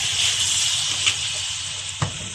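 Vinegar pours into a cooking pot for paksiw with coconut milk and tuna, making a steady, close, hissing splash that runs unbroken for a couple of seconds, with two brief soft knocks.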